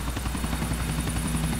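Helicopter in a GTA video game, a loud continuous rotor chop with a steady pulsing drone that fills the whole moment without pause.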